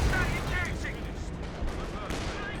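A time-on-target artillery barrage in the strategy game Company of Heroes 2 pounds a vehicle with booming impacts and rattling gunfire mixed into a continuous battle roar, under a commentator's talk.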